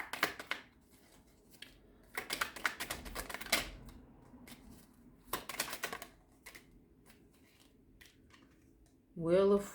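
Several quick bursts of riffling and snapping cards, fairly close, in short clusters separated by pauses, ending with a brief voice.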